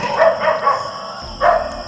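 A hunter's dog in a video game, giving two or three quick close barks, a pause, then another bark, loud and clear against a faint steady background.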